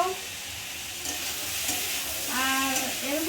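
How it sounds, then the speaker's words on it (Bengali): Potatoes, pointed gourd, onion and fish sizzle steadily together in hot oil, with a few stirring scrapes, close by and moderately loud. "সব কিছু এক জায়গায় মিক্স করে ভাজা আলু পটল পেঁয়াজ তারপর হচ্ছে মাছ মিক্স করে এক জায়গায় ভাজা"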